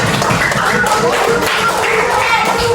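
A classroom of children claps briefly together during a lesson, a dense and loud patter of hand claps filling the whole short stretch with no pause.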